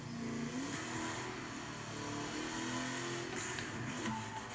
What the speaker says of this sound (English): Sounds like a real life Mustang.